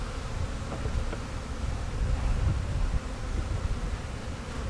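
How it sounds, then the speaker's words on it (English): A dense, steady buzz of many newly installed honeybees at a top bar hive fills the air close up, continuous and humming with no voices. "top bar hive with new bees"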